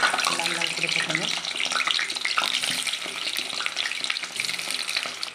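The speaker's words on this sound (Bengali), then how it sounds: "যতক্ষণ আমার আলুগুলো ভাজা হচ্ছে" Potatoes frying in mustard oil in a wok, a steady crackling sizzle that holds at an even level, with occasional stirring clatter and a faint voice in the background.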